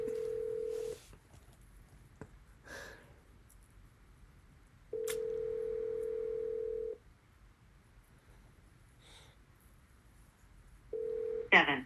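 A telephone ringback tone sounds in long, evenly spaced bursts of about two seconds with silent gaps between, ringing unanswered while faint voices murmur in the background.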